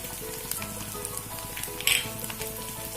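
Spices such as turmeric, fennel and chili powder sizzle with ginger garlic in hot oil for a quail egg roast, a constant close frying crackle with light stirring scrapes and a brief sharper pop partway through.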